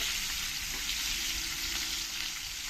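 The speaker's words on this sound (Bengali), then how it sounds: "মাছগুলো ভালো করে আমি সাজিয়ে দিয়েছি এবার এক এক করে উল্টে দেবো একটু সময় করে নিয়ে মাছগুলো ভালো করে ভাজতে হবে" Koi fish fry in hot oil in a close, dense, even sizzle that holds steady the whole time with no voices.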